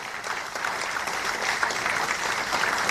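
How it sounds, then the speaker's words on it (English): Steady, moderately loud applause from an audience at an academic conference on student-centric education, continuous clapping that swells slightly and holds without speech. "warmly welcome them with a big loud of applause"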